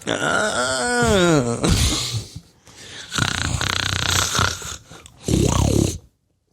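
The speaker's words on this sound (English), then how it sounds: "Actual pinky sound from Doom 2." Pinky demon from Doom 2, a loud close growling roar with a wavering pitch, followed by two more snarling bursts and then silence.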